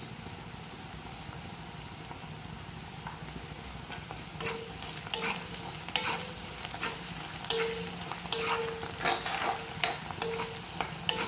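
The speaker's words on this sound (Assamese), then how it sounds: "এইখিনি ভালদৰে ভাজি ল'ব লাগিব ৰংচোৱা হোৱালৈকে।" Onions fry with Kashmiri red chili powder on a low gas flame for a chicken curry, a steady soft sizzle broken by repeated scraping stirs of a spoon against the pan.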